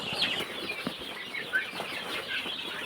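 Chickens being fed cluck softly and intermittently, fairly faint and close, with light rustling and scratchy movement in between.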